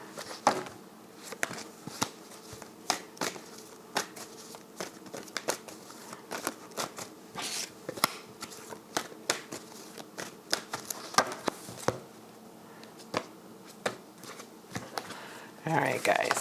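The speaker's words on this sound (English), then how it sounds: "I'm going to pull out cards for both of you." Tarot cards being shuffled, a run of soft riffling and flicking pats in an uneven rhythm, close and moderately quiet, with occasional sharper taps.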